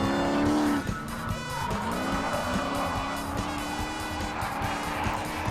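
A drift car competing at Lone Star Drift Round 4 slides with sustained squealing tires and a revving engine that rises and falls, fairly distant and continuous.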